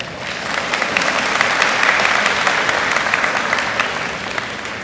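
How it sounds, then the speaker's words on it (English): An audience at a 2023 high school graduation ceremony at Rocky Mount High School applauds steadily for about five seconds, a dense, even clapping that fills the hall without cheering or speech. "Graduates, please give them a huge round of applause."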